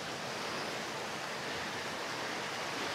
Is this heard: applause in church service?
no